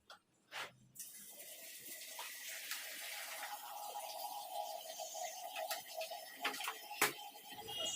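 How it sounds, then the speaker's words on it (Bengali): Cold water poured into hot water for soaking clothes makes a continuous close splashing trickle that follows a few thuds and clatters, with a sharp knock near the end. "আমি গরম জলটার মধ্যে কিছুটা ঠান্ডা জল মিশিয়ে দিলাম"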